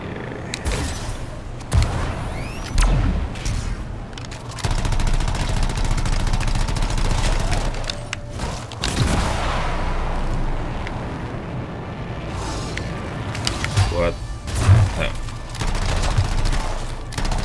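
Gunfire from enemies in the video game Anthem, with repeated bursts and sustained fusillades crackling through a busy, loud mix, some booms and rumbling beneath, and a voice talking intermittently.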